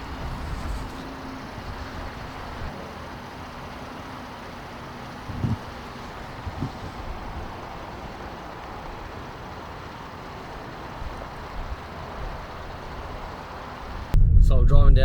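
A Holden Commodore car rolls down a gravel road in a steady, rumbling drive, with continuous road and tyre noise and a few knocks, recorded from inside while someone talks over it.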